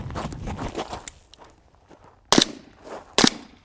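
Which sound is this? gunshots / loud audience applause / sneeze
gunshots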